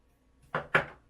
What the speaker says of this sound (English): let me grab my spatula